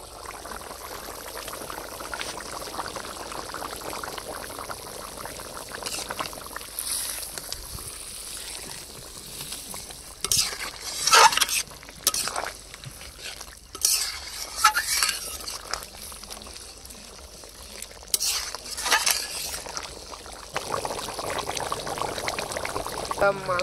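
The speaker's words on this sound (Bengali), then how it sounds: "এবার ভাজা মশলা দিয়ে 2 মিনিট ফুটিয়ে নামিয়ে নেব" Fried ground spices are stirred into a simmering village-style curry of desi rooster cooked with chui jhal, the ladle scraping the pot in repeated loud strokes over a low bubbling sizzle.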